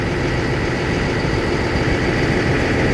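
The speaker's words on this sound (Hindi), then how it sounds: "तो इसका हम आरपीएम कम कर लेते हैं, यहाँ से आरपीएम कम हो गया" An Apollo AP-1000 asphalt paver's diesel engine runs at reduced RPM, a loud, steady, rumbling idle with constant vibration close by and no talking.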